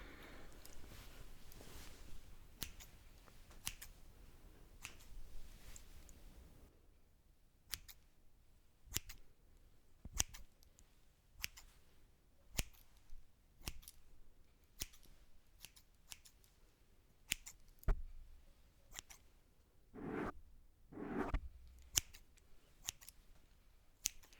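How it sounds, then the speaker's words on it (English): Close-up scissors trim hair in a haircut role-play, with crisp rhythmic snips throughout, quiet and intimate, with a soft rustle in the first stretch and a couple of brief fuller swishes near the end, no speech. "let's start this trim"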